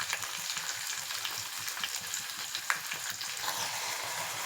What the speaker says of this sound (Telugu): ఇవి కొంచెం ఫ్రై అవ్వాలి